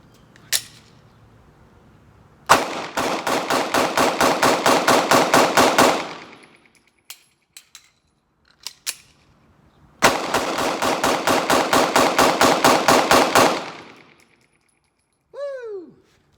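Glock pistol fed from Shield Arms magazines fires two rapid strings of shots, each a dozen or so sharp cracks in quick succession, separated by a few isolated clicks and handling noises, loud and close.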